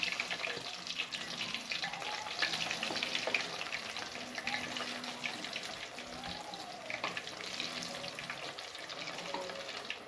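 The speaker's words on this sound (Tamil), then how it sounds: "இப்போ எண்ணெய் நல்லா சூடாகிருக்கு. நான் காலிஃப்ளவரை பொரிக்கிறதுக்கு போகிறேன்." Cauliflower pieces frying in about a litre of hot oil, a continuous crackling sizzle with bubbling, moderately loud and steady, with no talking.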